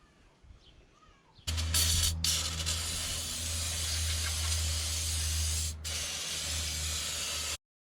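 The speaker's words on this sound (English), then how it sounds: "Bit of brake clean." Brake cleaner sprays onto the front brakes of a BMW E87 in a steady, loud aerosol hiss lasting about six seconds, with two brief pauses, close to the microphone.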